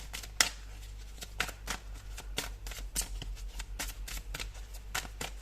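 Tarot cards are shuffled by hand in quick, repeated riffles and slaps, a crisp papery rhythm heard up close and alone.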